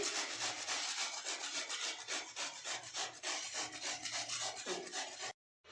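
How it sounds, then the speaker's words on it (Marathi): Bottle gourd is rubbed over a hand grater in a kitchen, making brisk, even rasping strokes up close before stopping abruptly at the end. "तर ती खिसण्याच्या सहाय्याने मी ह्याचं खिसून घेते"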